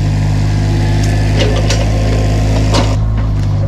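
A small brush cutter engine drones steadily and loudly up close, with a few brief swishing bursts over the constant hum.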